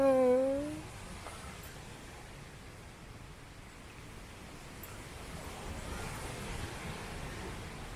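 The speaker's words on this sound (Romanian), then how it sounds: "Deci vântul a bătut cu aceeași frecvență." Wind blows across a mountain campsite in the Măcin Mountains as a soft, steady rushing hiss, rising slightly toward the end, after a brief tonal sound at the start.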